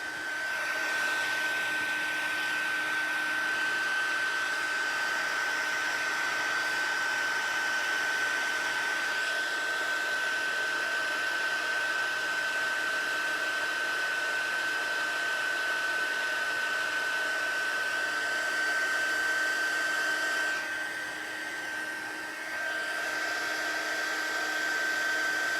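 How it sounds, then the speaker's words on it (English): A heat gun blowing steadily and close by, a continuous airy whine with a fixed tone that runs unbroken with only a slight dip near the end, no voices. "try and keep the heat gun away from your fingers because there's a reason it's called a heat gun."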